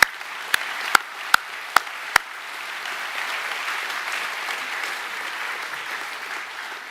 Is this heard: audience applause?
yes